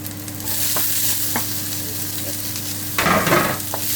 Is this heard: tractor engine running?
no